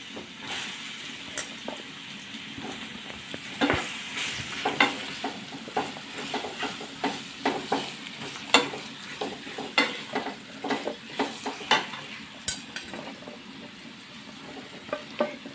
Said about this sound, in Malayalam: ഈ ചാമ്പങ്ങ അരിഞ്ഞ് വെച്ചിരിക്കുന്ന ഇതിലോട്ട് ചേർക്കാവേ